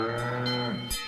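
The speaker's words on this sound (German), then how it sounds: "Zusammen mit der Martina mache ich mich auf die Suche nach den 40 Kühen" Cattle lowing on an alpine summer pasture where about forty cows graze, a single long, near moo with a steady harmonic tone, followed by a brief rustle at the end.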